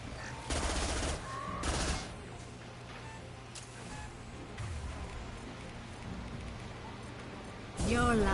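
Heavy gunfire in Mass Effect 2 combat, dense bursts of shots layered over a steady low rumble, with louder volleys near the start and end.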